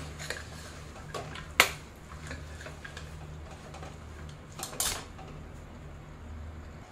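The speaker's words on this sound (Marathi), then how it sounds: "आता या भाज्या छान या मसाल्यात आपण मिक्स करून घेऊया" Mixed vegetables being stirred into masala in a pan, with a few scattered metallic clinks and taps of a spoon against the vessel over a faint background hum, including one sharper knock.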